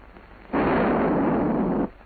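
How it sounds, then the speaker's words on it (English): A hand grenade detonates in a WW2 combat training demonstration, a single loud, sustained blast lasting over a second with a sharp onset and abrupt end, heard alone without speech. "The instructor pulls the pin. The grenade is now hot. After he's let go of the safety arm, it'll detonate in 5 seconds."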